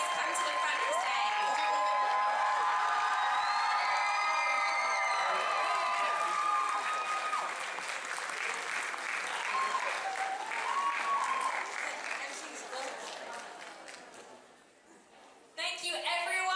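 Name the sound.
audience applause for cosplay winners and judges' choices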